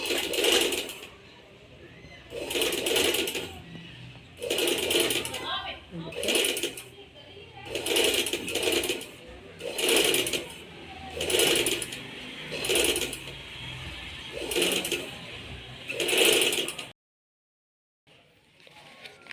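A sewing machine stitches border strips for a trouser in regular short runs, about eight loud, close bursts of rapid stitching separated by brief pauses, with a voice talking between and over them before the sound stops near the end.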